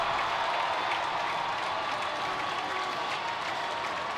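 A college hockey crowd at Bowling Green applauds and cheers late in the third period, a dense, steady roar of clapping filling the arena with no break.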